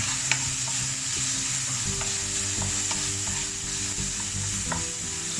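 White onion sizzles steadily in a pan for a spicy chicken dish while a utensil stirs it, giving light scraping clicks over a constant hiss. No one speaks.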